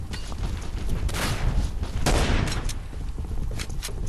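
Rapid gunfire in the video game Killing Floor, dense overlapping shots and bursts forming a loud, continuous volley with a few heavier booms, no talk.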